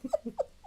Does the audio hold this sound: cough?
no